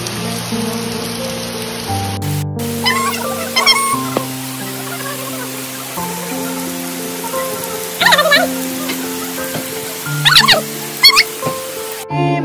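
Heavy rain patters steadily on a surface in Ranikhet, Uttarakhand, under sustained tonal humming, with a few brief squeaky chirps breaking through now and then.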